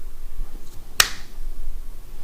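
A single sharp hand clap during a live tabletop board game session, standing alone against quiet room background.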